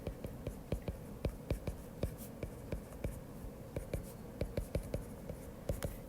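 Hand-writing a trigonometry proof, a quick irregular series of scratchy pen or marker strokes tapping and sliding against the writing surface, close and fairly soft.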